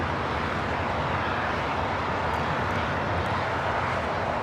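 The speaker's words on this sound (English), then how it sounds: "This is LL Flight 6 taking off to Tel Aviv on the 787-9 Dreamliner Shalom." An El Al Boeing 787-9 Dreamliner taking off at Los Angeles airport, a steady, loud, broadband jet engine roar that holds evenly throughout with no talk.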